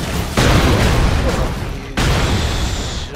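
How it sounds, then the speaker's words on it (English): A missile launcher blast in the Broforce video game: a loud, booming explosion bursts out, rumbles on, then a second heavy detonation hits close and sustains a roaring wash. "Oh, it's a missile launcher."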